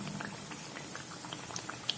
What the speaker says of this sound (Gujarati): તો આ જ રીતે આપણે બધા જ વડાને તળી લઈશું.